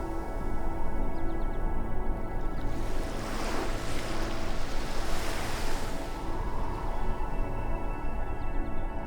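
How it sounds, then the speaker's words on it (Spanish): Ocean waves along the Canadian coast near Vancouver, a continuous loud wash of surf that swells into a broad crashing rush midway and then settles back to a steady roar, with no voices. "Es el tipo de lugar donde el sonido de las olas"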